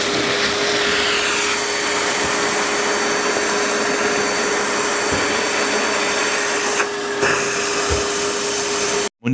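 A vacuum cleaner drives a 90-litre sandblaster at its lowest setting, giving a steady, loud, continuous motor whine that runs unbroken and cuts off abruptly at the end.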